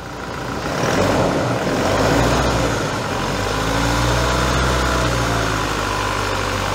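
Turbocharged engine, checked around its turbo actuator, revs up from idle to roughly 1500 rpm, a steady loud mid-pitched drone that rises then holds, close by with no talk.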